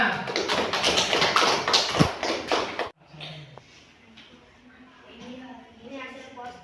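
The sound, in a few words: clapping hands in a classroom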